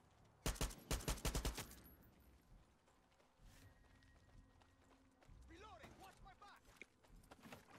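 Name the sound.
gunfire in Far Cry 6 video game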